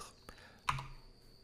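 A single tab key press on a computer keyboard gives a sharp, close click, with a few fainter key taps around it in a quiet room.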